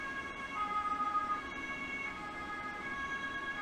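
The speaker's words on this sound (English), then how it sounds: "I can't deal with these sirens like that." An ambulance siren wails steadily outside open windows on a warm day, fairly loud and continuous with its sustained wavering tones, and no talking over it.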